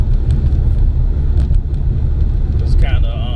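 A Ford Mustang with a four-cylinder engine drives along with a steady low engine and road rumble and some wind buffeting, close and continuous, with a brief higher whine near the end.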